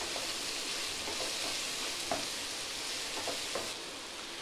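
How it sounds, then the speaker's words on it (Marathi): Chicken fried rice stir-fried on high flame in street-food style, a continuous bright sizzle with occasional scraping and tossing strokes, steady and close with no speech. "आता हे छान हाय फ्लेमच ठेवलेली आहे मी आणि त्याच्यावर छान आपण परतून घेणार आहोत."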